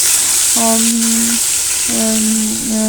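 Malabar spinach and pumpkin fry with panch phoron in a pan, giving a steady hiss of sizzling with two sustained low tonal drones laid over it.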